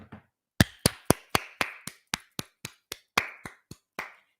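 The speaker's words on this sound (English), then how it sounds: "Hand claps," Roughly fourteen sharp hand claps in a steady, even rhythm, close and crisp, each one distinct, with no talking.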